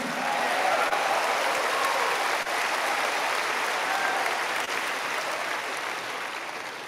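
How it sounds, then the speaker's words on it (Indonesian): A church congregation claps at length during a sermon, dense sustained applause filling the space at a steady loud level before tapering slightly at the end. "Tepuk tangannya lebih panjang rasanya ya, dibanding yang jiwa-jiwa tadi"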